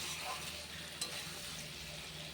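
Tomato curry with pointed gourd being sautéed in a pan with a pinch of sugar, a soft, steady low sizzle with faint stirring and one brief clink, fairly quiet and without talk.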